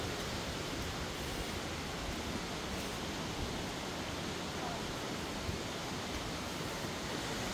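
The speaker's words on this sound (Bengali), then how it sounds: "ঝর্নার জল পড়ছে, আমরা তার গায়ে দিয়ে যাচ্ছি" A waterfall pouring down a hillside in Meghalaya gives a steady, dense rush of falling water, heard fairly distant and unbroken throughout, with no voices over it.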